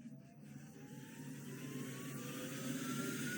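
A Kumark blower motor starts up smoothly at its lowest speed, a steady whirring hum with a gently rising whine that builds softly and evenly.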